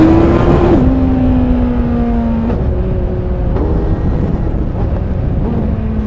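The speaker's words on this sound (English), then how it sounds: "You got this raw and exciting sound from the exhaust when you push it." A 2019 Kawasaki Z900 naked motorcycle roaring through its exhaust under hard acceleration, a loud continuous engine note with a gear-change drop, heavy wind buffeting over the microphone.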